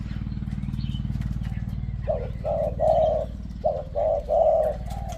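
A zebra dove coos nearby in a run of clear, rolling trilled notes, two bursts of short phrases after a couple of seconds, over a steady low hum in the background.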